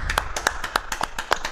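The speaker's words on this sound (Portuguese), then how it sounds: "Peço agora oficialmente uma salva de palmas ao Dr. Nilton Arantes, Niltinho." Applause for an honoree at a medical award ceremony: a short burst of sharp, evenly spaced hand claps, close and fairly loud, with no voices over it.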